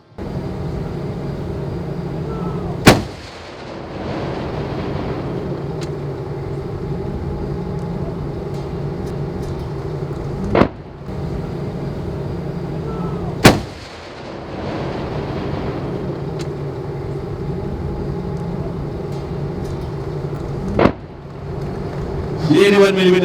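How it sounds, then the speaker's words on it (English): A 105mm L5 pack howitzer firing during a live-fire exercise: four sharp, heavy booms spaced several seconds apart, each fading into a continuous low rumble and hum. "The 105mm L5 pack howitzer will now engage target number 3."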